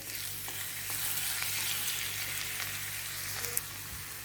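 Finely chopped ginger crackles and sizzles in hot ghee with pepper and cumin while venpongal is being made, a steady, close, hissing fry with light stirring and no talk.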